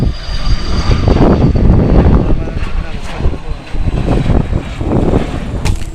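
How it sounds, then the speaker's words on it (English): An airplane passes overhead near a lake by the 10th Street Bridge, a steady loud roar of engine drone mixed with wind buffeting on the microphone, continuous for the whole stretch. "Look, there's an airplane."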